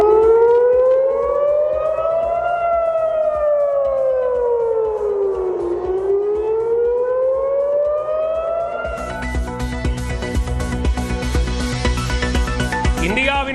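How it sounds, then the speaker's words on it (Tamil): An air raid warning siren in Israel wails loudly, rising and falling in long sweeps. After several cycles it gives way to a dense burst of other sound near the end. "ஒலி எழுப்பி மக்களை எச்சரித்த இஸ்ரேல் அரசு"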